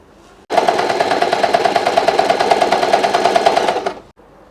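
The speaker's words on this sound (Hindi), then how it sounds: "तो पहले मैं एक साइड सिल लेती हूँ" A sewing machine runs one steady, rapid stitching burst for about three and a half seconds as it sews a side seam on leftover blouse fabric, loud and close, with short quiet gaps before and after.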